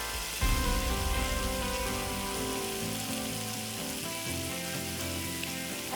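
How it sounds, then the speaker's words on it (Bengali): Chicken fries slowly in a pan over a low flame in a television kitchen, a steady, close, loud sizzle and crackle that holds evenly throughout with no voices. "আস্তে আস্তে ফ্রাই হবে, আর আমরা পুরোটাই এটা একটুখানি লো ফ্লেমে করব।"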